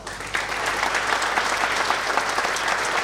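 Steady, dense applause from an audience at a firefighters' day ceremony in the municipality of Slovenske Konjice, a continuous wash of many hands clapping without pause.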